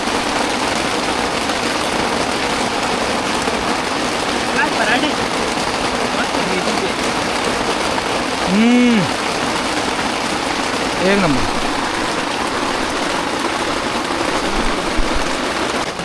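Heavy rain falls steadily in a national park near an old temple, a loud close wash of hiss that lasts throughout, with a couple of brief rising tonal sweeps and a short spoken phrase.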